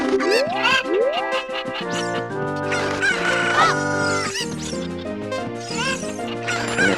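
Chicken clucking and crowing from The Legend of Zelda: Ocarina of Time, with repeated bright squawks and clucks. It sits over a busy, continuous game music bed, loud and close, with no talk.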